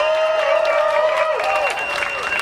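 A crowd at a Vancouver solidarity rally applauds its speakers, a dense wash of clapping and some cheering that carries steadily throughout and eases slightly toward the end, with voices mixed in.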